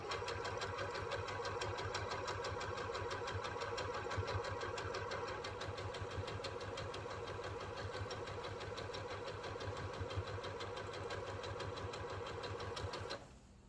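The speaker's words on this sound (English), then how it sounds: "So you just sew this into a strip set." A home sewing machine whirs steadily at a soft, even pace while stitching a quilt strip set for an Irish Chain block. It stops abruptly near the end.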